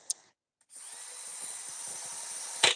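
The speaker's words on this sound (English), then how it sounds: "Speed 3. Fast drill." A power drill runs at its second speed setting with a steady high-pitched whine, starting after a short pause and continuing evenly close by, with a brief knock at the start and end.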